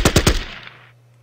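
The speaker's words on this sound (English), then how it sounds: "Shooting at the machine gun position." Three rapid machine-gun bursts fire at an enemy machine gun position in the Battle Academy war strategy game, loud and close, each crack trailing into a fading echo with no talk over it.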